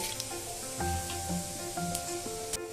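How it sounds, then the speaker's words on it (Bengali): Black cumin seeds dropped into hot oil after frying potatoes, a soft, close sizzle with faint crackles and a few light clinks, fairly quiet and without talking. "এবার এই তেলের মধ্যেই আমি ফোড়ন দেব কালো জিরে"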